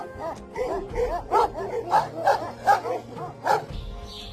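A large Kangal shepherd dog barks about seven times in a steady rhythm, deep and fairly close, with no other sounds around it.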